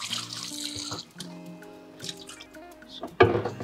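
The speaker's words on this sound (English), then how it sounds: "So, try and wash your mortar very well, because it harbors dirt and debris." Water running and dripping while a mortar is rinsed out in a kitchen sink during preparation of oha soup, with a splashing gurgle, a few clinks, and a louder splash near the end.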